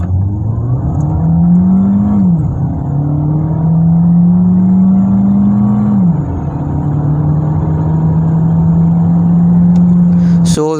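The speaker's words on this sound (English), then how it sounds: "the engine likes to rev a lot in the sports mode" A Skoda Karoq in sports mode accelerates hard from 0 to 100, its engine droning loudly as it rises in pitch, drops at two gear changes, then holds a steady high rev from inside the cabin.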